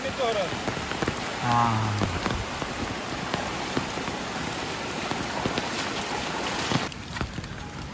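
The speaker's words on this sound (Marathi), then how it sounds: "पाऊस एकदा मोठो येता बारीक येता मधीच तापता असा काय जाता." Steady rain falls through the whole stretch in a rural Konkan village near a waterfall, a dense close patter on surfaces with a brief spoken word early on.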